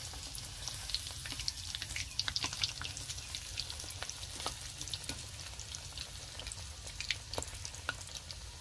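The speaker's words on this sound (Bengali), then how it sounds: "এটা খুব হালকা হিটে ভাজতে হবে।" Egg pakora fries in oil over low heat, giving an even, soft crackling sizzle with tiny pops and no talk.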